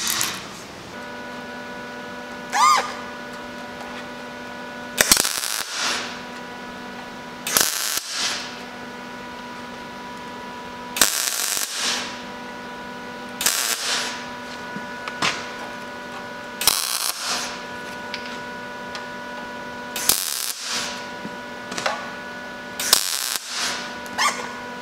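A MIG welder joins thick steel to thin steel in a series of short, crackling bursts, each lasting about a second and separated by pauses, with a faint steady hum between welds.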